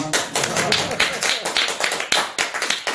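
Scattered, uneven clapping from an audience at a book concert, sharp individual claps in a loose rhythm, close and fairly loud, with some voices mixed in.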